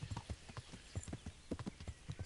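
Horse hooves clip-clop in quick, uneven beats in Kingdom Come: Deliverance, fairly quiet but clear and close, with no talk over them.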